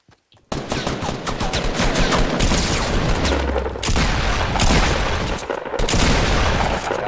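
Sustained rapid gunfire in a Fortnite duo match, dense overlapping bursts of shots and booms filling the whole stretch after a brief silent start, loud and close.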